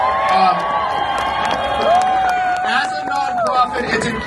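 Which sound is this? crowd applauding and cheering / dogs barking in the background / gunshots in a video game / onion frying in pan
crowd applauding and cheering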